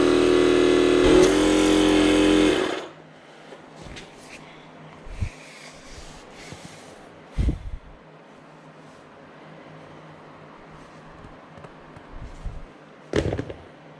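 A pump or compressor inflates an adventure motorcycle tire tube with a loud, steady mechanical drone that cuts off after about three seconds, followed by scattered clicks and knocks.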